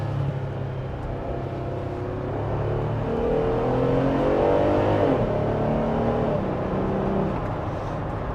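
The 3.6-litre V6 of a 2026 Jeep Wrangler Rubicon revs up through manual shifts, its note climbing and swelling to a peak before dropping back, heard steadily from inside the cabin.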